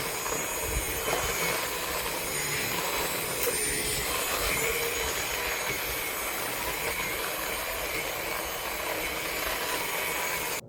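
A suction cleaner runs over artificial grass, giving a loud, steady whooshing roar that holds evenly throughout without a break.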